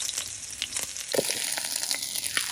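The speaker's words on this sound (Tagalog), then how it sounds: "mainit na po yung mantika natin. Lagay tayo ng garlic." Garlic frying in hot oil in a pan, a steady crackling sizzle with bursts of popping and a brief stir partway through, close and fairly quiet.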